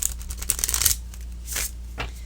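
A stiff tarot card deck being shuffled by hand, with a fast riffling burst up front followed by two shorter soft swishes, close and fairly quiet.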